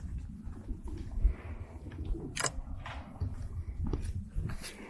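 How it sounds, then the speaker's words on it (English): Pigeons in an animal sanctuary's bird enclosure give soft, repeated low coos, close and continuous, with scattered light rustles and footsteps around them. "This is where our pigeons live."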